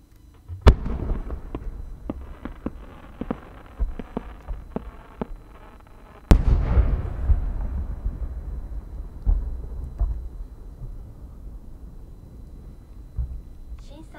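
Firework shells with rising tails and changing chrysanthemum bursts go off one after another at the Omagari fireworks festival in Japan, scattered pops building to a big booming blast that rumbles and fades into crackling echoes.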